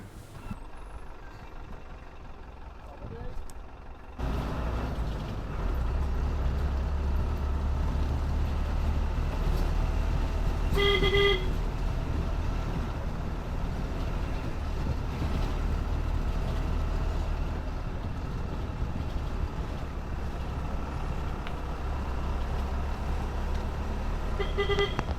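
A bus travels through the Kumily tea estate area with a loud, steady engine drone and road rumble throughout, a brief tonal horn or beep around the middle.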